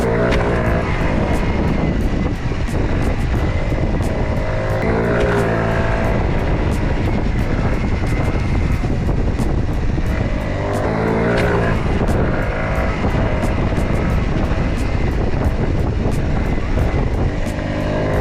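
A stock 50cc four-stroke moped engine revs hard and buzzes during wheelies on an open street, loud and continuous with wavering pitch as the throttle rises and falls, and nobody talks.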